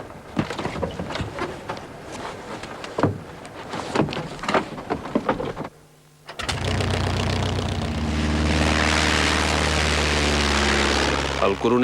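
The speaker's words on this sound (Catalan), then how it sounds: "Sandino utilitza els pocs avions de què disposa a l'aeroport del Prat per iniciar un ràpid atac contra els revoltats" Propeller warplanes of the Spanish Civil War era at El Prat airport fly over. A narrator talks at first, then a brief hush gives way to a loud, sustained, throbbing engine drone that swells and holds to the end.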